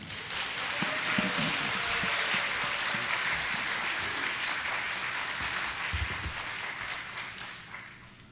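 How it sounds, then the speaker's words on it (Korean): A church congregation welcomes a guest pastor with a broad wash of clapping and cheering that swells quickly, holds dense and sustained for several seconds, then slowly thins toward the end. "목사님 나오실 때 큰 함성과 박수로 모시겠습니다"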